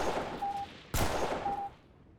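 Gunfire in the video game Delta Force Xtreme: a single sharp, loud shot cracks out midway, framed by softer game ambience and a faint tonal beep before and after, with no talking.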